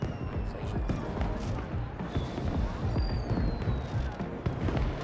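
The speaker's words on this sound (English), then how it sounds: "The fireworks were holograms." Holographic fireworks burst over a futuristic city in the video game Beyond a Steel Sky, a steady dense crackle of pops and thuds that runs continuously without pause.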